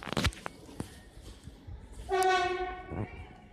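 Train horn blaring as a train passes a station platform, a sustained harmonic blast of about a second standing out over rumbling rail noise, preceded by a few brief knocks.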